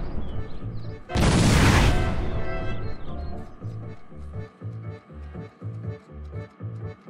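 A toy 'kitchen gun' from a 1994 TV commercial fires a soap blast: one loud, sharp burst lasting under a second, then a steady rhythmic beat carries on underneath.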